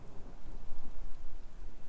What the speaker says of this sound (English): I can actually hear thunder coming in behind.